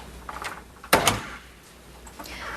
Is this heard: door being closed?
yes